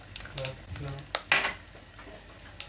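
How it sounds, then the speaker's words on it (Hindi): Oil poured over a hot burning charcoal piece set in a plate beside chicken for smoking, giving a brief close sizzling hiss around the middle, amid light clinks of dishes and utensils. "दगदा हुआ कोला एक इसके अंदर डाल दूँगी और इसके अंदर थोड़ा सा तेल डालूँगी"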